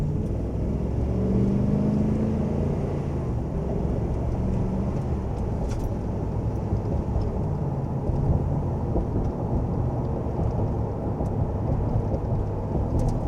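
A Ford 7.3 Godzilla V8 pickup engine fitted with new spark plugs drives along with a steady low rumble and road noise. The sound is continuous and moderately loud, with no talking.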